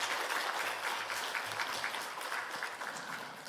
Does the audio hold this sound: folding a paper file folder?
no